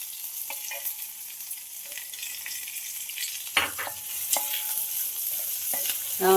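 Small chopped onions dropped into hot oil in a pan, a hissing sizzle with occasional scrapes and knocks of stirring, building slightly louder toward the end, without speech.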